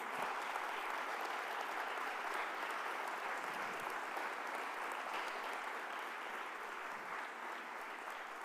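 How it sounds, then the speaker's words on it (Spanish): A church congregation claps in sustained, even applause, fairly faint and distant, with no speech over it. "denle un aplauso a Jesús"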